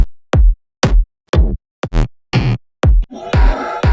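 Techno kick drum heavily distorted with a Trash plugin, a string of punchy, gritty hits with booming low thumps and noisy tails, spaced irregularly and growing harsher and longer toward the end, loud and dry.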